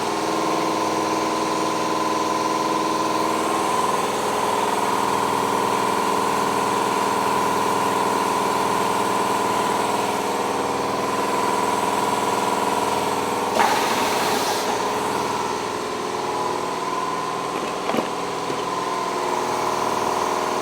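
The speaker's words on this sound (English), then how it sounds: "We'll shut that air compressor off for the rest of the video." An air compressor runs steadily in a machine shop beside a CNC mill, a constant mid-pitched motor drone with a humming whine, briefly punctuated by a couple of short hissy bursts.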